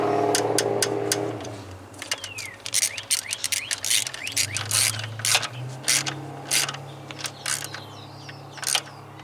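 A hand ratchet tightening the plastic intake fasteners on a 2013 Ford Explorer 3.5 engine clicks in quick bursts of close, crisp ratcheting, with pauses between strokes over a low steady hum.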